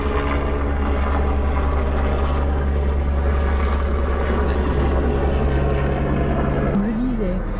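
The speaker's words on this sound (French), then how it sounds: "Alors encore le bruit d'hélico là." A helicopter flies overhead near the Bourgne mountain refuge on the Tour du Mont-Blanc, a loud continuous rotor and engine drone throughout, with a shift in pitch near the end.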